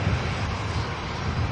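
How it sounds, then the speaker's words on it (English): A Ryanair Boeing 737 landing at Manchester Airport produces a steady, broad engine roar, loud and continuous, with no voices. "Ryanair 737 coming in from Milan."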